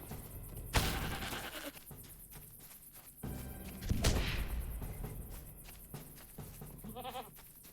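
Goats bleat in LOTRO, several short bleats scattered across the stretch, some up close, with thumps and game effects between them.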